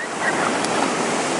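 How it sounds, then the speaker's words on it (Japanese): Ocean surf rolls and crashes along a shore in a steady, broad wash of water noise, with some wind buffeting the microphone. "すげえ波"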